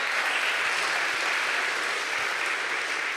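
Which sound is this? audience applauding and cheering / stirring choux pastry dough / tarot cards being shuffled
audience applauding and cheering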